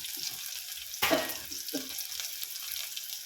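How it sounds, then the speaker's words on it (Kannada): Chilies, garlic, chopped onion and grated coconut frying in a pan, a soft sizzle with a louder stir-and-scrape around the middle, faint and steady. "ಎಷ್ಟು ಚೆನ್ನಾಗಿ ಫ್ರೈ ಮಾಡ್ಕೋಬೇಕು ನೋಡಿ"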